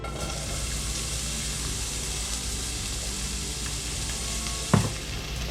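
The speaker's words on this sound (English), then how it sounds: "now I'm going to add in 1 medium chopped onion" One medium chopped onion frying in about two tablespoons of avocado oil in a skillet over medium heat, a steady close sizzle throughout, with a single sharp clack near the end and no talking.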